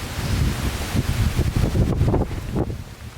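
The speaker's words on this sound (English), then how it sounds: "Oh, it's a windy day too." Steady gusting wind buffets the microphone at a forest homestead, a continuous loud roar with rustling swells and no pauses.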